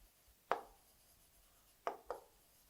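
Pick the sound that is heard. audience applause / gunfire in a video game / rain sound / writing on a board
writing on a board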